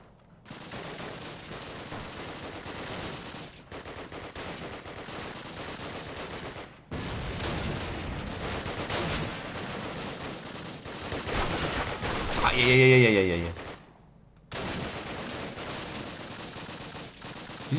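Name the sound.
gunfire in the video game Call of Duty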